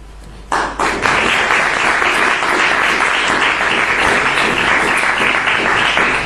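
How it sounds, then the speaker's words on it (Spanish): An audience bursts into loud, sustained applause after a brief quieter moment, with many hands clapping in a dense, continuous wash that holds steady to the end. "No era para que aplaudierais"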